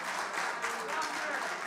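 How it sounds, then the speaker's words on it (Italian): Audience applause at an event at Piazza dei Mestieri, a steady dense wash of clapping throughout, moderately loud and continuous with no pauses. "stai sentendo gli applausi"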